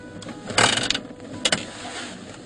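An aircraft parking brake being set in a military training cockpit gives a few mechanical clicks and ratcheting clatters, two distinct bursts over a quiet background hum, with no talk over them.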